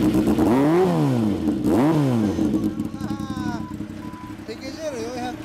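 A 1983 Yamaha XJ400Z motorcycle engine fitted with a Yamamoto Racing muffler revs up twice in strong rising-and-falling sweeps, then settles into a steady idle nearby as people talk over it.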